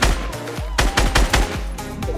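Rapid gunshots ring out in a Fortnite battle, a close, loud series of sharp cracks in quick uneven bursts, each blast trailing a short booming echo over ongoing game noise.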